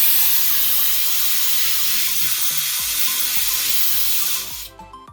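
Compressed air hisses steadily and loudly through a brake bleeding tool used for a car brake flush, then cuts off abruptly near the end, leaving faint clicks.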